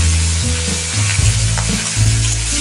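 Coconut pieces frying in oil over medium heat, heard as a loud close sizzle with bubbling crackle and a low hum from the stove running underneath.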